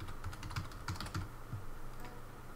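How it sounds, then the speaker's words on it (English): Gibberish typed on a computer keyboard, quick soft key clicks in an irregular burst, close but quiet, with no voices. "say if I type in a bunch of gibberish into here"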